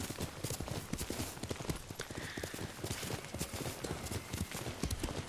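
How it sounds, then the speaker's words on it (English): Horse hooves gallop in Ghost of Tsushima, a steady rapid clip-clop rhythm of many close, fairly quiet hoofbeats with a faint wind-like wash beneath. "we're just going to ride our horse to our next actual quest"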